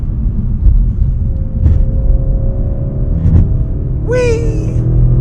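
A modified 2015 Audi S6 engine pulling hard under acceleration gives a loud, steady low rumble inside the cabin, with a brief high squeal near the end.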